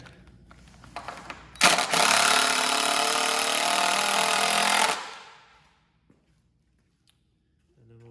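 A power tool drives screws into a wooden rabbit cage, one loud close buzzing run of about three seconds that winds down, with soft handling knocks before and quiet after.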